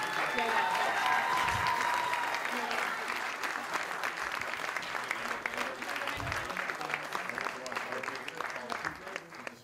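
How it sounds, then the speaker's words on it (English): Sustained audience applause at an Ontario Liberal Party leadership debate in Ottawa, a dense even crowd clapping that fills the room for the whole stretch and eases slightly toward the end. "I knew all of that applause couldn't be for me."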